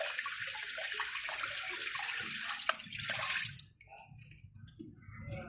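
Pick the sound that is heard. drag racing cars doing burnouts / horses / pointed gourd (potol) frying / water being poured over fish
water being poured over fish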